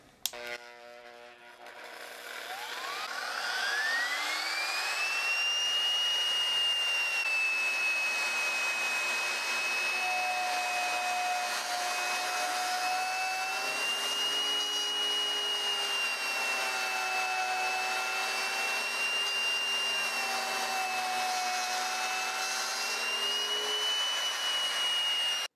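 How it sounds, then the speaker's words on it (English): A trim router fitted with a straight cutting bit cuts a slot in a desk's wood, spinning up quickly into a loud, steady high whine that wavers slightly as it moves through the cut, with no talk. "I'll use my trim router and a straight cutting bit."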